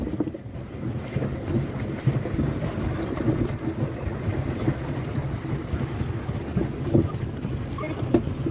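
Boat ride on the water at Khalishpur Ullash Park, a steady low engine-and-hull rumble with wind buffeting the microphone throughout, close and continuous.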